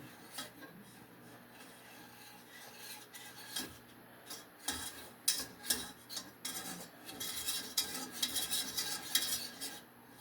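A wire whisk scrapes and clinks around a pot while a homemade hand sanitizer mixture cooks over low heat, the metallic stirring strokes irregular and getting busier and louder toward the end, with no talk.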